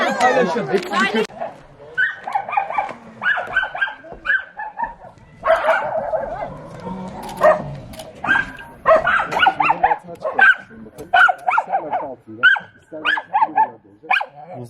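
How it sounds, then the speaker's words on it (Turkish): Dogs at an animal shelter bark, yip and whimper in loud, overlapping bursts close by, with people talking among the barking. "Açıkta köpek var."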